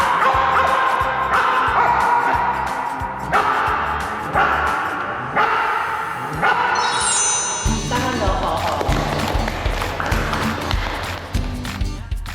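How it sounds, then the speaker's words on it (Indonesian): A dog barks in a series of short, evenly spaced barks, loud and close, given on command with some background noise and a brief burst of other sound partway through. "Ayo Gogok, harusnya kamu bisa menggonggong 10 kali nih."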